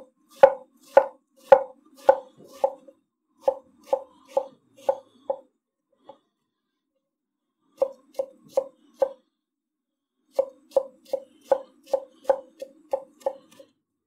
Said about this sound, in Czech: Mám tady jedno jabko, zbavený šupky a bubáka, tak si ho nakrájím na menší kostičky.